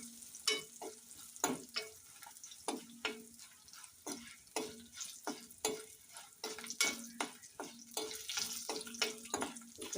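Tamarind is stirred into a tempering in a pan. A quiet sizzle sits under a string of sharp, repeated spatula scrapes and clatters that come in an irregular rhythm.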